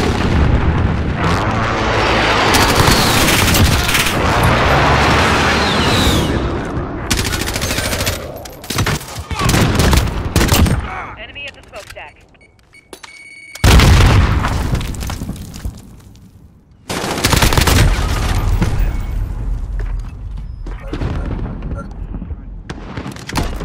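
Airstrike explosions and heavy gunfire in Call of Duty Modern Warfare, loud continuous booms and rapid shooting that fade briefly and then return strongly, with radio-style voices over them.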